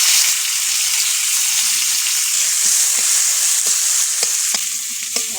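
Chopped garlic fries in hot oil for a tangra fish curry with eggplant, tomato and potato, producing a bright, steady close-up sizzle with scattered small crackles and spoon clicks.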